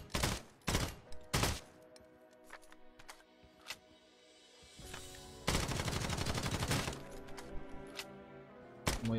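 Gunfire in the Lost Light Mobile shooter game: a few sharp single shots early, then a longer rapid automatic burst and one final crack, loud and close against quiet gaps.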